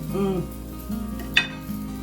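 Steady sizzling of green tomatoes frying in oil in a pan on high heat, with a low hum, a brief clink of metal, and faint murmuring.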